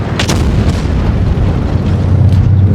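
In World of Tanks Blitz, the French Foch 155 tank destroyer's cannon fires with a sharp boom near the start, followed by rumbling battle noise and a low engine drone; no talking.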